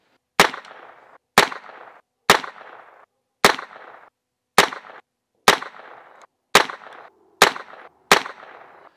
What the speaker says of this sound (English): We're gonna put 9 shots in that left target at 10 yards.